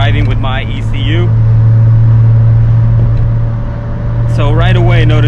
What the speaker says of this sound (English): I'm gonna do a little rev at the red light so you guys can see that the idle stays.